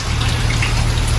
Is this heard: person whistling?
no